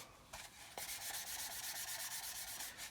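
Fine 800 grit sanding stick worked back and forth on plastic, a continuous close rasping hiss in quick even strokes after a short hesitant start, with no voices.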